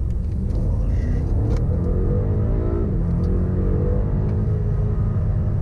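A 2020 BMW M5 Competition pulls hard through a 30 to 70 mph sprint, its engine note climbing as it accelerates and then shifting, a loud, close cabin roar with heavy low rumble and no voices.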